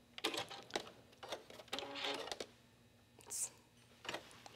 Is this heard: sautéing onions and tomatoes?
no